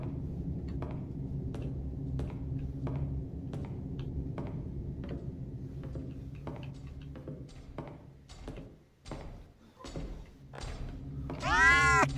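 Several short cat meows from the game Case: Animatronics 2 repeat over a steady low background hum, with a longer, louder cry near the end; no talking.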